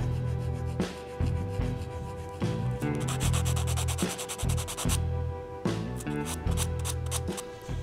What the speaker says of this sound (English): Obviously, a little bit of sanding is necessary here and there.